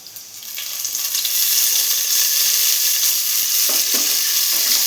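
Mint leaves fry in a pan with a loud, bright, hissing sizzle that swells quickly at the start and then holds steady, with a few soft stirring knocks.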